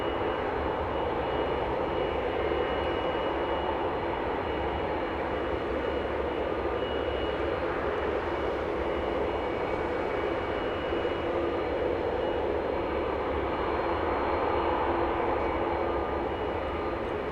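Jet airliner at Los Angeles International Airport, a continuous broad engine roar held at steady loudness throughout, distant and unbroken, with no voices.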